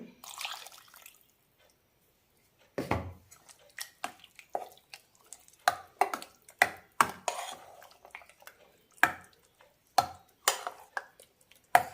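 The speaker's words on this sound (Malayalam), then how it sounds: "നന്നായി മിക്സ് ചെയ്ത ശേഷം തിളപ്പിച്ചെടുക്കാം" Jackfruit curry in a pot is stirred together with ground coconut paste and water. After a quiet start come repeated wet scrapes and metallic clinks of a spoon against the pot, close and irregular.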